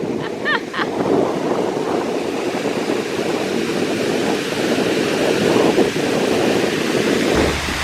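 Strong wind blowing outdoors beside a mill footbridge, roaring and buffeting the microphone in a steady, dense rush with gusty surges throughout and no voices.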